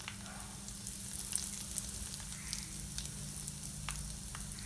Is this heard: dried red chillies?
yes